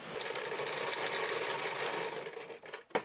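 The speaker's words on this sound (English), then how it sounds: "I'm going to take that liner piece and I'm just going to sew it right there at the bottom" A sewing machine runs continuously, stitching a liner piece to the bottom of a child's fabric beach bag, with a steady mechanical whir that slows and stops with a few final clunks.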